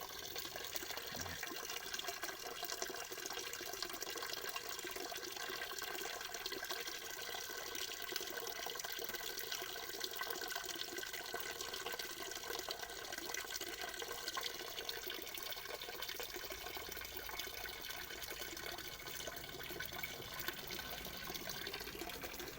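Wood vinegar mixed with tree resin drips and trickles out of a charcoal kiln, giving a steady watery running sound that holds at an even level throughout with no voices.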